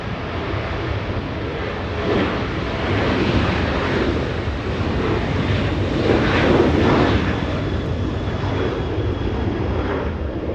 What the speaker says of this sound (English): Southwest, a departure, lifting off.